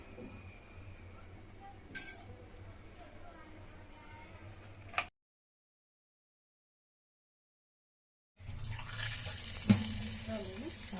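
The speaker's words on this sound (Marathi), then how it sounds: "तेल तापलंय" Aluvadi, the rolled and steamed colocasia-leaf snack, frying in hot oil: a steady, fairly soft sizzle that cuts out to complete silence for a few seconds and then returns, with a couple of sharp clinks.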